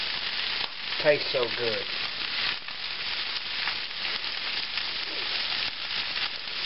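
Cabbage and Spam fry in bacon grease in a pan, a steady loud sizzle that runs the whole time, with a brief spoken remark near the start.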